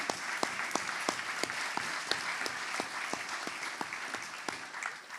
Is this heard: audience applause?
yes